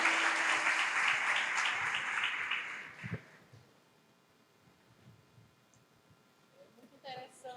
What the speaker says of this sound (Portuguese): Vamos aplaudir, é isso aí.